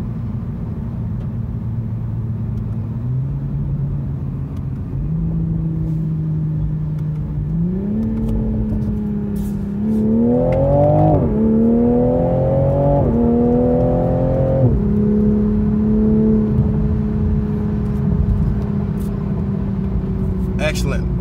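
A 2021 Toyota Supra 3.0T Premium accelerates hard through paddle-shifted gears, its engine note climbing in steady steps with brief dips at each upshift. The drone stays loud and close inside the cabin.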